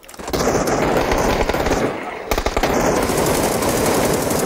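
Gunfire in the PUBG video game, loud sustained rapid automatic bursts filling nearly the whole stretch with a brief break midway, with voices talking beneath.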